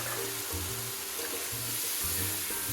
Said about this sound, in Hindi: चलो इसमें हम डालेंगे थोड़ा सा पानी